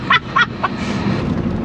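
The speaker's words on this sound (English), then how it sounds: "It's a pigeon." A pigeon gives three short, clipped calls close by, heard over the steady rumble of road and engine noise inside a moving car.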